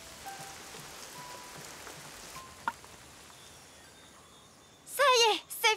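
Heavy rain falling outdoors, a steady, soft broadband hiss throughout, ending with a short high-pitched vocal call.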